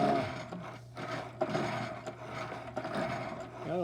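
A metal shaper machine runs its strokes, giving off faint, close mechanical clicks, rubbing and rattling taps at an uneven rhythm, with a loose belt flopping in the workshop.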